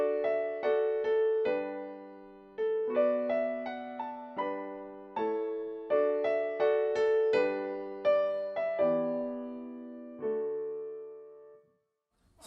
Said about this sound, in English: we came up with a piano version, basically, that sounds like this.